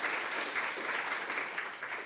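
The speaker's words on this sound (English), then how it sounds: "Good round of applause." Audience applause at a closing of an evening talk on immigrant and bystander rights, a steady dense patter of many hands clapping throughout, moderately loud with no voices over it.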